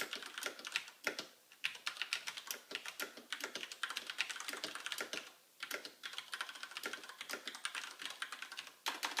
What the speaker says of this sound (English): a little typing demonstration here so you can get an idea of what the two different key switches sound like